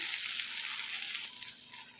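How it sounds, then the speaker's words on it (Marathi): Oil sizzles and crackles steadily as thalipeeth, a flatbread of yellow jowar, gram flour and radish leaves, fries on a hot iron griddle, a soft continuous hiss close by with no talking. "थोडे थोडे तेल टाकून थालीपीठ भाजून घेऊया"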